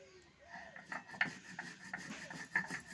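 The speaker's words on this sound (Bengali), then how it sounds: "প্রথমেই আমি পোস্তটা বেটে নিচ্ছি" Poppy seeds ground by hand into a fine paste make faint, close, rhythmic scraping strokes, a quick repeated rasp with no talk.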